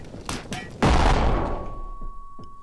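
Explosive gunfire in the Anger Foot game: a few light clicks and taps lead into one loud, heavy blast that rumbles and fades, followed by a lingering tone and a couple of faint thuds.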